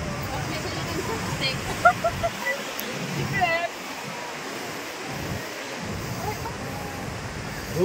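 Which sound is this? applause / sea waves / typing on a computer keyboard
sea waves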